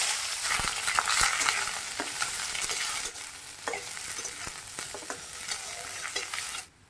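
Onion fries in hot mustard oil with dried red chilli and cumin in a wok, a close, crackling sizzle broken by sharp scrapes and taps of a spatula, cutting off abruptly at the end.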